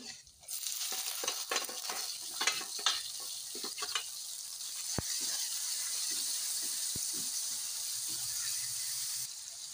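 Browned garlic with tomato added, sizzling in a pan while being stirred: a run of scraping clicks at first, then a steady, close hiss of frying.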